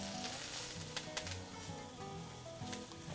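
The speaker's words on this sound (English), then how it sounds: "I've got my greens and gonna add them and just stir until they're wilted down." Greens sizzle steadily in a hot pan as they are stirred to wilt for a vegetarian pantry pasta, a continuous close frying hiss with occasional louder crackles and scraping, no voices.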